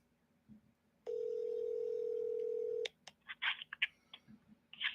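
A telephone dial tone holds steady for about two seconds, then cuts out and is followed by a quick, uneven string of short keypad dialing beeps, clear and close.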